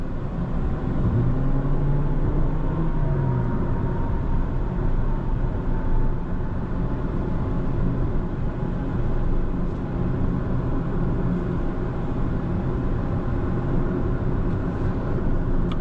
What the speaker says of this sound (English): Obviously you have road noise and all that, is it's a Prius